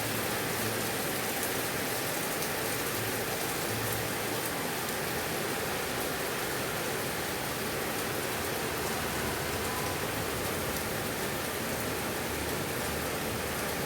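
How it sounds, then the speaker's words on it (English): Heavy rain pours down steadily for the whole stretch, a dense and even roar of downpour with no voices and no breaks. "I was so happy to see it was raining like cats and dogs"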